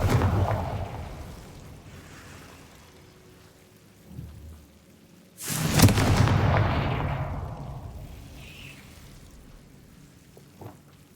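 Confringo blasting spell from Hogwarts Legacy, a fantasy video game, going off as a sudden loud explosive boom that rolls into a long rumbling decay, preceded by a smaller thud and ambient game noise, with no talking.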